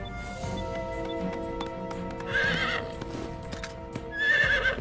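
Horse hooves clip-clop steadily in a scene from a Tamil television comedy series. Two loud whinnies cut through, one midway and one at the end, over a background of layered sounds.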